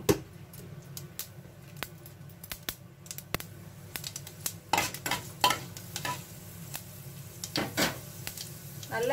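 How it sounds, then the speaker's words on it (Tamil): Mustard seeds and fenugreek seeds, half a spoon each, spluttering in hot peanut oil for a Tamil avarakkai kuzhambu; a steady low sizzle broken by sharp scattered pops and crackles, close and fairly quiet, with no talking. "அரை ஸ்பூன் அளவுக்கு வெந்தயம் ரெண்டும் சேர்த்து பொரிஞ்சு வரட்டும்"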